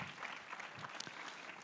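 Audience applause at a veterinary conference session, a soft, steady patter of clapping from a moderately sized crowd, fairly distant and even for a brief moment.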